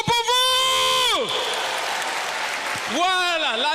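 An audience's applause and cheering swells between stretches of a loud, pitched voice speaking over a microphone, the crowd noise filling the gap in the middle.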